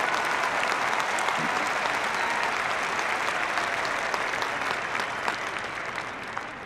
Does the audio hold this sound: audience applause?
yes